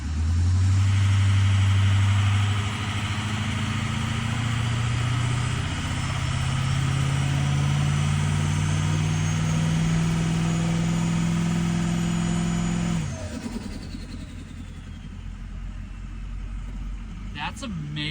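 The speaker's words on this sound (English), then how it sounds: "This turbo is absolutely fantastic. That's cooling amazingly. Just built 30 PSI boost, just sitting here." Diesel engine idling with a turbo building around 30 PSI of boost, a loud steady low rumble with shifting drone and a rising whine that drops off sharply near the end, with people talking over it.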